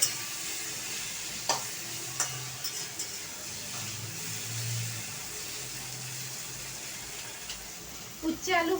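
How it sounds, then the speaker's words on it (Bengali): Kalmi shak (water spinach) frying in a pan gives a low, steady sizzle at moderate distance, broken by a few sharp clacks of utensils and a louder clatter near the end. "এই কলমি শাক ভাজা করছি"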